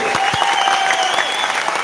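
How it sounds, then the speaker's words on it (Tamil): Applause filling a hall at a birthday greeting event for Thol. Thirumavalavan, a broad, steady wash of clapping from a large crowd, loud and close, with a voice briefly audible over it. "அரங்கம் நிறைந்த மாபெரும் கைத்தட்டலுக்கு நடுவே"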